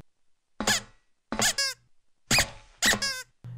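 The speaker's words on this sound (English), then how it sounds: "Then the squeaks." Cartoon squeak effects dubbed onto an animated scene, four sharp high-pitched squeaks in pairs with gaps between, each with rising and falling chirping tones, close and clear with no talk.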